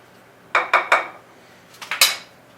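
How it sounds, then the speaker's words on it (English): A spoon stirs steel cut oatmeal with apples in a crock pot, knocking against the pot in three quick clinks, then a short pause and a few more clanks, close and fairly clear. "Give it 1 more stir."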